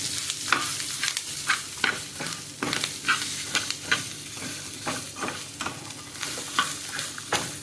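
Spices and turmeric fry and crackle in a pan for radish sambar, with steady stirring scrapes and sizzling taps recurring throughout at close range and moderate volume, no voices.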